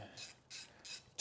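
Ratchet clicking in three short bursts as head bolts are loosened on an 80 Series LandCruiser engine, close and fairly quiet, with brief pauses between the runs of clicks.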